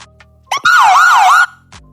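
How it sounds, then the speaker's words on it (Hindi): A wailing electronic siren sweeps up and down for under a second, loud and close, with faint clicks before and after. "सायरन बज रहा है"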